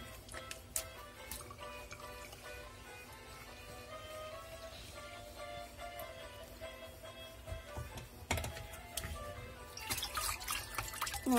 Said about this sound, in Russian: Я ее промываю в дуршлаге 2 раза, иногда 3 раза.